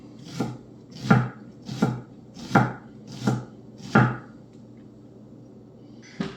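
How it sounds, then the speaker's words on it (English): A knife mincing shallot for a lemon chicken dish makes six firm, evenly spaced chopping strikes, close up with nothing else heard, then a faint final tap. "give it one cut, and you'll see just how amazingly minced our shallot will be."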